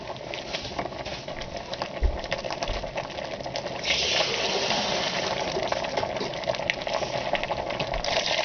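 Soup boils in a pot on a stove, a dense close bubbling and pattering that grows a little louder and fuller partway through, with no one talking.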